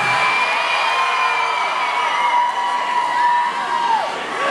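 A concert crowd at an acoustic show in Dortmund yells and cheers loudly, a dense continuous roar of many voices with shrill whoops throughout.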